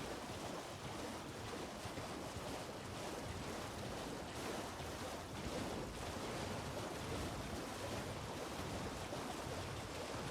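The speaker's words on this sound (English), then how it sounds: "Such a long run through the water, too." A character runs through water in the video game Elden Ring, a faint, continuous rushing and sloshing wash with no voices.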